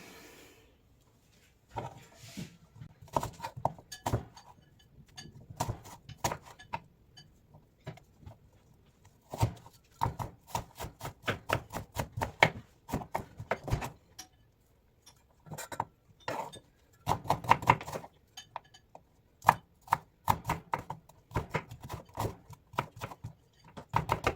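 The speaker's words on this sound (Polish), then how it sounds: "jedna cebulka i działamy, tniemy cebulkę" Onion being chopped with a knife on a board while making konjac pasta with tuna in cream sauce, crisp irregular taps in bursts with short pauses, close by and moderately quiet, with no talking.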